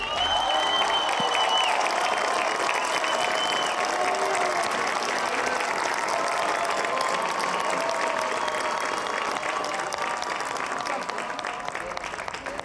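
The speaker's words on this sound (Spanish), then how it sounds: "Estos dos participantes despedimos con un aplauso a Marisa Ayala y Javier Ríos." Studio audience on a Spanish-language TV game show semifinal gives sustained, loud applause with scattered cheers, steady for the whole stretch as participants are sent off.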